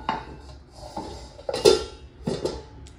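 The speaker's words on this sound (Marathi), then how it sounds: "आता यावरती ढाकण देऊयात आपण।" A metal lid set down onto a cooking pot of egg curry on a home stove gives a few clanking knocks and scrapes of metal on metal. The loudest clatter falls midway, with quieter rattles before and after.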